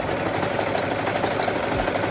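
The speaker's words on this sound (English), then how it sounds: "Now I'm just gonna sew a zigzag stitch on either side of the strap." A sewing machine runs a zigzag stitch along a strap for a water bottle holder, producing a loud, continuous whirring hum with a fast, steady mechanical pulse close by and no talking.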